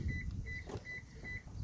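Repeated electronic beeps from a Lexus IS250 alarm system, four evenly spaced chirps over a low rumbling background, fairly faint and alone without talk.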